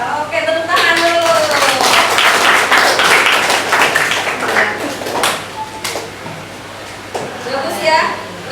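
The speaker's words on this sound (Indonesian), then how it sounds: "tepuk tangan dulu" A classroom of ninth-grade students claps hands together, a loud, dense burst of clapping that thins out toward the end, with voices mixed in.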